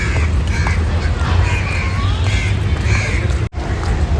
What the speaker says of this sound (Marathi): पहिला पक्षी कावळा.